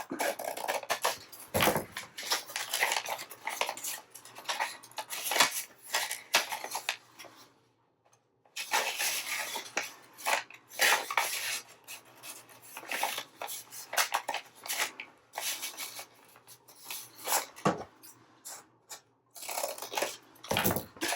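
Paper is trimmed for a junk journal, with repeated crisp snips and soft rustling handling noises at close range, paused briefly by a moment of silence midway, with no speech.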